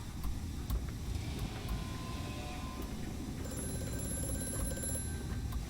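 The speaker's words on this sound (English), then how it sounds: "The phone is ringing." Telephone ringing inside the horror game A Machine For Pigs, a faint repeated ring heard over a low droning ambient rumble, with no voices.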